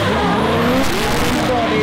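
Drift cars with E36 V8 engines skidding on a track at a drifting weekend in Jyväskylä, a loud roaring engine with squealing tyres sliding past, while a commentator talks over it.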